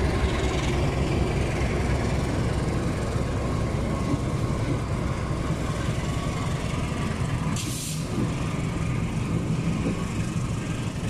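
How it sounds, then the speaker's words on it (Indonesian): KA Turangga passenger train pulling out of Yogyakarta's main station from the north platform, a steady loud rumble of wheels and carriages with a brief hiss near the end, no talk over it. "ini KA Turangga sudah mulai meninggalkan stasiun besar Yogyakarta ya, berangkat dari peron utara jalur nomor 5"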